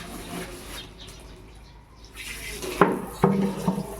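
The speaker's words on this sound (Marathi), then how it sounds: "एकटा नळ असा आहे ना, सगळं पाणी उडत अंगावर." Water runs from a household tap and splashes, a steady rushing hiss that swells near the end, punctuated by a couple of sharper knocks.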